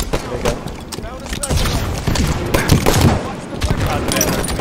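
Sniper rifle shots and a burst of gunfire in a Halo 5 Slayer multiplayer match ring out close and loud, layered with other game effects while a player talks excitedly over them.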